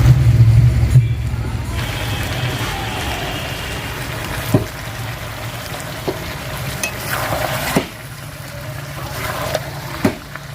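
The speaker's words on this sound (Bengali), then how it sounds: "এবার আমি ওই ক্যাপসিকাম যেটা রেখেছিলাম সেটা এবারে দিয়ে দেবো" Capsicum tossed into a pan of chicken curry frying in spices, giving a steady close sizzle and hiss with a few sharp clinks and stirring knocks, no voices.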